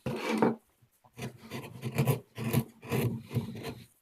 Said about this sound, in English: You always remember that chisels have to be sharp to carve wood.